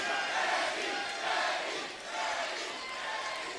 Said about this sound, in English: And the crowd picking right up on it.